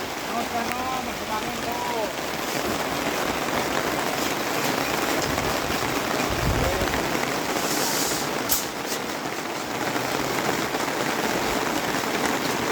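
Steady rain falls on a bridge construction site, a dense, even hiss of drops hitting surfaces throughout, with someone talking over it and a brief low thud midway.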